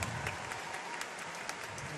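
A crowd in an arena at the Universiade in Kazan applauds a gymnast's routine, with steady, fairly distant clapping and no distinct voices.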